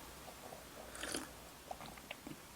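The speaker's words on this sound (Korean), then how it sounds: "오랜만에 편의점 샌드위치 먹으니까 맛있어" A person eats a convenience store sandwich close by, with a few soft bites and crunchy chewing sounds in a quiet room and no talking.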